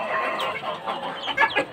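Gamefowl cluck softly in a small chicken coop, a brief, fairly faint burst of murmuring clucks with a couple of sharper calls near the end.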